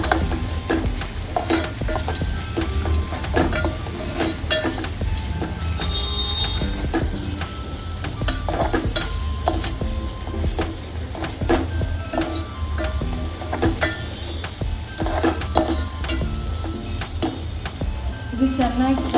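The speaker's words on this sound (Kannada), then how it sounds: "30 ಸೆಕೆಂಡ್ ಫ್ರೈ ಮಾಡ್ಕೊಳ್ಬೇಕು." Turmeric, chilli powder and garam masala fry in oil in a pan for a North Karnataka ridge gourd curry, a steady close sizzle with intermittent stirring scrapes and no voices.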